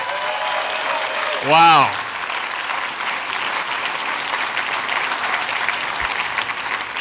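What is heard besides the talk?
audience applause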